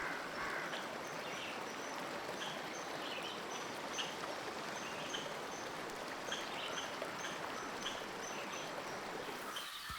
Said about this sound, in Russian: Неподалеку шумит живописный водопад. Вода с грохотом падает вниз,